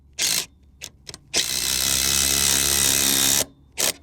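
A power drill drives a fastener to tighten baseboard on a framed double zipper end wall, with a few short trigger bursts followed by one long steady loud whir that stops abruptly, close up.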